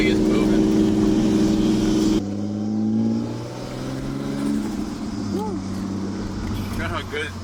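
An RV engine drones steadily while driving, a loud continuous hum that shifts pitch as the vehicle changes speed, with a brief higher tonal sweep near the end.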